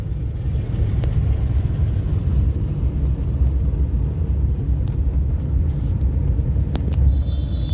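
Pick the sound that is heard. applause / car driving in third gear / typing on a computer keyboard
car driving in third gear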